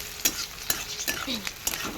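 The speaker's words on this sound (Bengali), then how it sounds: "পেঁয়াজটাকে হালকা করে একটু লালচে লালচে করে ভেজে নেবো" Onions frying in a pan with a pinch of salt, stirred at intervals: a steady close sizzle broken by several sharp scraping strokes of a spatula against the pan, with no talking.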